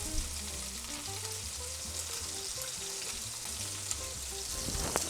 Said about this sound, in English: we turn this in upside down, it should sizzle right now, like that